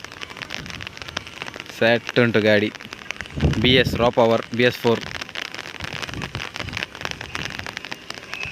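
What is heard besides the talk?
rain starting to fall outdoors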